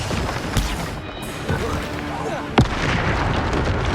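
A Bombarda spell explosion in Hogwarts Legacy, a sharp blast late in the moment amid a few softer bursts and continuous battle noise.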